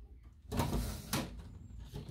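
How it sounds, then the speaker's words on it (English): A storage drawer of acrylic craft paints slides open with two brisk scraping, rolling bursts, moderately quiet and close, with no speech. "Still more drawers."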